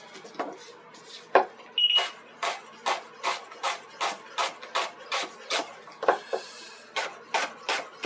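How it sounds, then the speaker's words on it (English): Knife chopping shallots on a cutting board, a close, crisp series of about fifteen evenly spaced chops with a brief pause partway through and no talking. "Just roughly chop your shallots."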